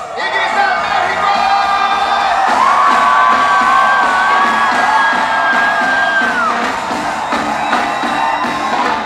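Concert crowd at a show at Auditorio BlackBerry in Mexico City, loud sustained shouting and cheering with whoops, a dense continuous roar of many voices.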